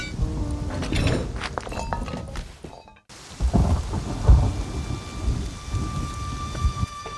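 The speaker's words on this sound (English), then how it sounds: "The storm wasn't letting up." Heavy rain pours steadily in a thunderstorm in the survival video game Rust, with rumbling thunder rolling beneath it, a brief sudden dropout, then rain and low thunder resuming.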